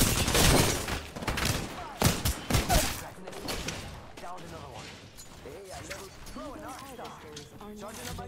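Shooting in a video game inside a busy building: rapid bursts of loud gunfire in the first few seconds, then scattered shots and clattering beneath a voice talking.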